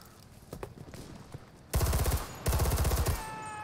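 Two loud bursts of rapid automatic gunfire in the World War II shooter Enlisted, each lasting under a second, preceded by softer scattered shots and thuds.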